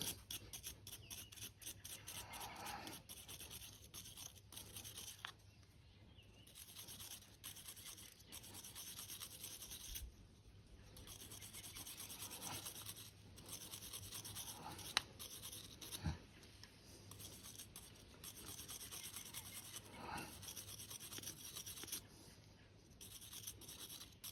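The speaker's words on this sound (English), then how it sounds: "this one has a little bit of corrosion on it. Let me brush this one." Wire brush scrubbing white corrosion off an exhaust bolt on a Honda SH150i scooter, a steady rasping scrape in repeated strokes, close and fairly quiet, with no talking.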